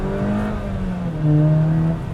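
A 2022 Jeep Compass engine with a nine-speed transmission and all-wheel drive accelerates, its steady droning tone rising in pitch and getting louder, with no talking.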